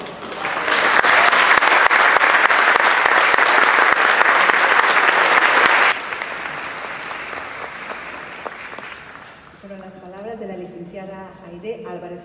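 Audience applause for a youth symphony orchestra at a gala concert, loud and dense for about six seconds, then easing to scattered lighter clapping, with a brief tonal musical phrase near the end.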